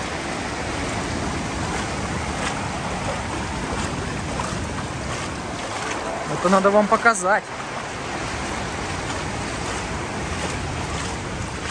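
Floodwater sloshes and rushes steadily across a flooded seafront embankment in Lazarevskoye, Sochi, with wind buffeting the microphone, while a person briefly speaks over it.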